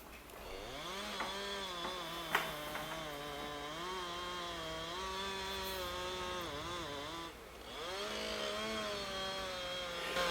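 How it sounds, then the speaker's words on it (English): An older Husqvarna 372 XP chainsaw roars steadily as it cuts while felling a large tree, its pitch rising and dipping with the load, fairly distant and continuous throughout. "I'm running a 372 XP. It's an older saw."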